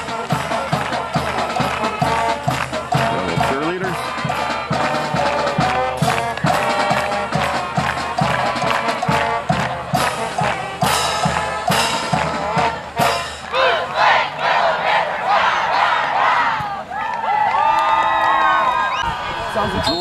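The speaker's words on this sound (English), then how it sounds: "Rebel crowd standing up and cheering here." A home football crowd rising to its feet and cheering during a high school state quarterfinal, loud sustained roars and whoops rolling for twenty seconds, swelling and dipping, with a public-address voice and band-like tones over the din.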